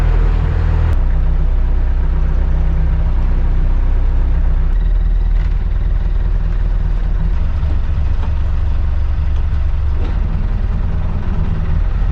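A Perkins diesel engine on a wooden boat idles steadily up close, a deep low rumble running throughout with a faint tick near the start.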